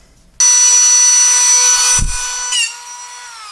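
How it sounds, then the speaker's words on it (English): A Dremel rotary tool spins up abruptly with a steady high-pitched whine while cutting a recess for a nut in an RC car part. It sounds close and loud, with a brief grinding bump as it bites into the material, then a lower whine as it winds down. "we're just going to go ahead and Dremel that spot out"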